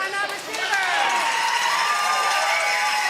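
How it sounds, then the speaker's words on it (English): Crowd at a pickleball match in the Arizona Pickleball League, Scottsdale Scorchers against Gilbert Gladiators, roaring and cheering steadily and loudly with no break, shouts rising above the broad wash of noise. "Yes, the crowd is fired up."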